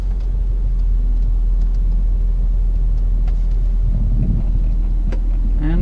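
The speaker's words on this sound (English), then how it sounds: "You can start your car up." A Ford Fiesta of the 2010–2017 generation idles steadily after starting, giving a constant low engine rumble close by with small fluctuations and no speech.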